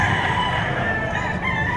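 A rooster crows loudly and close by at a livestock auction market, a single sustained call over dense, busy background noise.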